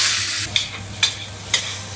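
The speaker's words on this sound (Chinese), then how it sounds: "五花肉下锅炒" Pork belly stir-fries in a hot pan with a steady sizzle, while a spatula scrapes and tosses it in three evenly spaced strokes; no voices.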